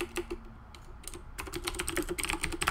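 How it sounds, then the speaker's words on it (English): Rapid clicking of computer keys during a StarCraft 2 tournament broadcast, steady bursts of typing that grow busier and denser toward the end, close and fairly quiet with no talk over it. "Okay, just typing Hyun for an invite."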